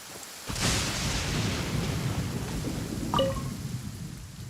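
Steady rain pours in Genshin Impact, a dense hiss of falling water beginning abruptly and continuing throughout, with a few faint higher chiming game tones near the end.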